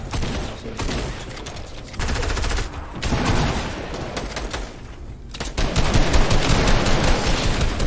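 Dense video-game gunfire crackles in rapid, overlapping bursts for the whole stretch, loud and close, with sniper fire in the mix and no talking.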